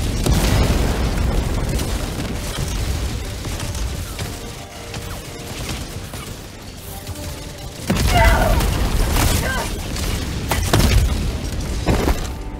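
Tank dropped onto a player in Helldivers 2, with repeated heavy booms and explosions, a loud impact midway followed by continued blasts and mechanical rumble.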